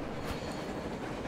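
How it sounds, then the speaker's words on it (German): Train passing on the surface in the Metro Exodus video game, a loud rumbling roar with rattling rail clatter, close and continuous, no talking. "Ein Zug! Ein verdammter Zug an der Oberfläche!"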